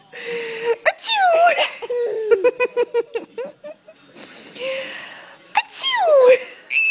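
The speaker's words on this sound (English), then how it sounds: "Achoo!" A voice fakes several exaggerated sneezes, each a sharp rising burst, with giggling and childish laughter in between and a bright laugh at the end, all close and loud.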